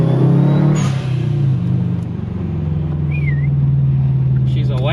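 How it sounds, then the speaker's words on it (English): A Subaru Impreza GF8 STi turbo engine running after a gasket repair, a steady low idle drone close by with a brief rev near the start. "The car's going."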